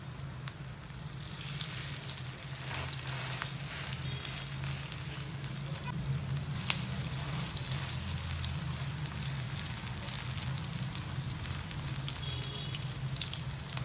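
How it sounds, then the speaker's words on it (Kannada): Alasande (black-eyed pea) vada frying in hot oil give a steady, dense sizzle and crackle that carries on evenly throughout, with no talking. "ಇದು ಸ್ವಲ್ಪ ಚೆನ್ನಾಗಿ ಫ್ರೈ ಆಗಬೇಕು."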